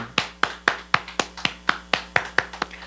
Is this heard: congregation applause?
yes